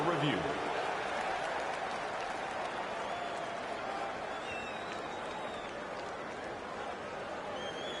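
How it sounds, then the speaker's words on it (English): Arena crowd noise from a hockey game in the video game NHL 15, a steady broad roar of home fans with applause and cheering holding at an even level throughout, with a commentator's voice talking over it. "the home crowd is on their feet. They are furious with the decision."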